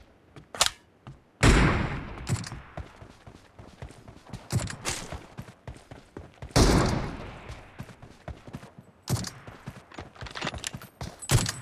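M24 sniper rifle fire in PUBG team deathmatch: several loud, sharp reports spaced apart, each with a booming tail, between quieter clattering and footstep-like sounds.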